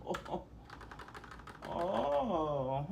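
A typewriter-style keyboard clatters through quick, distinct keystrokes for about a second and a half. A person then speaks over faint background noise.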